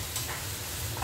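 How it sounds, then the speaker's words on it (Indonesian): Eggs fry in a pan for Indonesian-style mi goreng, a short burst of close, crackling sizzle with faint stirring. "Goreng telurnya dulu."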